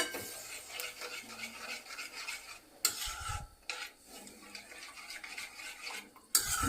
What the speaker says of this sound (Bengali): এবার ফ্লেমটা জোর করতে হবে, জোর করে সমানে নাড়তে হবে